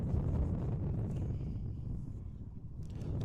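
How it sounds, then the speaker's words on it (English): Steady low rumbling wind buffets the microphone throughout, a dense roar with no clear voices, at Amsterdam Schiphol Airport by the Kaagbaan runway. "Very windy."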